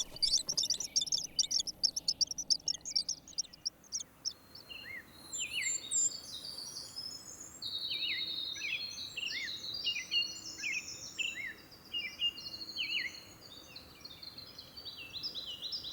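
Tree swallows chirp at their nest box, a dense chorus of rapid, high twittering calls that starts as sharp clipped notes and swells into continuous overlapping chatter, close and steady.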